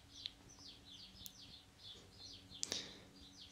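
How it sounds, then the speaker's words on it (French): Small birds chirp and tweet repeatedly in short bright phrases, heard from a distance over a faint low hum. "Il y a même quelques oiseaux qui sont venus vous encourager dehors. On peut les entendre d'ici."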